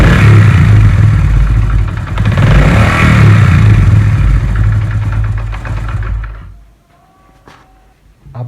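A Honda CD 70 motorcycle engine runs loud and close at raised revs, then the throttle is let go and the sound slowly sinks back toward a quieter idle, ending in near silence with a few faint clicks.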